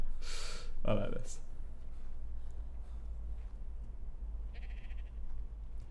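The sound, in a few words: sheep bleating in the video game ARK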